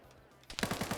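Gunfire in a PvP video game: after a quiet lead-in, a fast burst of about six evenly spaced shots rings out, fairly distant and modest in loudness.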